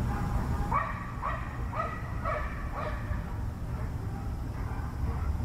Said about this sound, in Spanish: Está lleno de canes, por lo que veo, de perros.